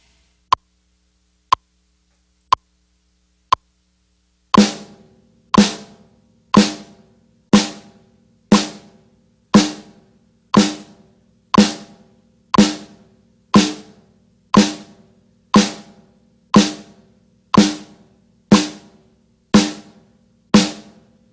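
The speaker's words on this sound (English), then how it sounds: "I'm going to play it to a metronome at 60 beats per minute." Four sharp metronome clicks at 60 beats per minute count in a quarter-note exercise, then a plucked or struck note rings on every beat with a steady one-per-second rhythm and a decaying tail each time.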